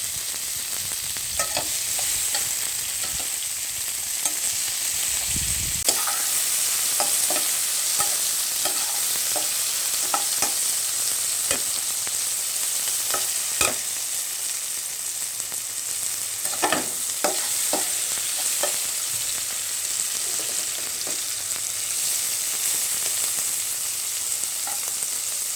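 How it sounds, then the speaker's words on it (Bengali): Bitter gourd (karela) fries in hot oil on high heat with a loud, steady sizzle and occasional clicks and scrapes of stirring, with no talking. "এই পর্যায়ে আমি করলাগুলো এবং চুলের তাপটাকে হাই হিটে রেখে আমি কিছুক্ষণ ভেজে নেবো করলাটাকে।"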